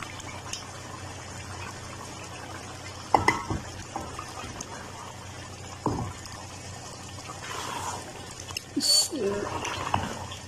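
Beef stew is stirred in a pot and lightly sizzles, with a few clanks of the spoon against the pot over a low steady frying hiss.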